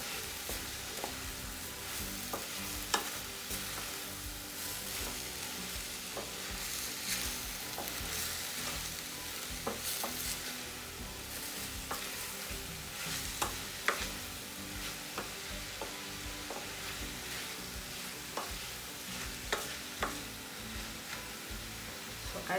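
Chopped vegetables and green onions stir-fry for veg hakka noodles, a constant close sizzle with frequent sharp clicks and scrapes from a spatula tossing them in the hot pan.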